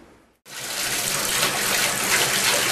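Warm water gushes steadily from a tap, starting abruptly after a brief quiet moment and then running loud and constant, close by with no talking.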